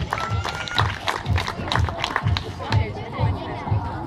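Applause from an outdoor crowd at a children's running race award ceremony for 11–12-year-old girls, a steady patter of clapping with crowd chatter mixed in throughout.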